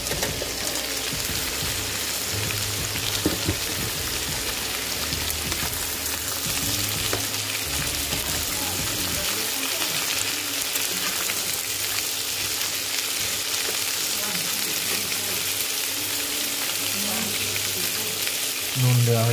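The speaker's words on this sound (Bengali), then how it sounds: "এবার অন্যান্য যে সবজি, গাজর এবং কপি, সেগুলো একটু হালকা করে ভেজে নেওয়া হচ্ছে" Carrots and cabbage fry lightly in a pan for a vegetarian paneer curry, producing a continuous crackling sizzle with occasional stirring scrapes near the mic, and no talking over it.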